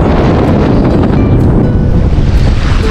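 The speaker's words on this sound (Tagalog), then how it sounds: "Medyo mahangin po." Loud, constant wind buffeting the microphone on a shallow shore in Taiwan, with surf washing underneath, roaring without pause.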